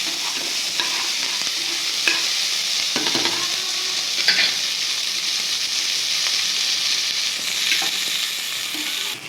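Onions frying in oil until golden for a hotel-style vegetable kurma, a steady close sizzle with occasional spoon scrapes and stirring clatters against the pan throughout.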